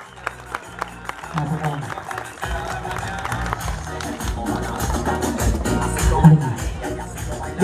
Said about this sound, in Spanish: Un aplauso para la mamá, hombre, que se escuche.